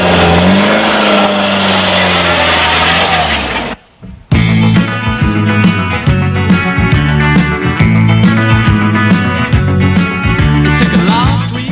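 A Peugeot 205 CTI cabriolet with its 115-horsepower 1600 engine accelerates on the road, a steady loud engine note rising through the gears, broken once by a brief silent cut.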